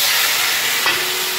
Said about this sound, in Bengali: এই দেখো আমি আলু আর কুমড়ো ভাজা করছি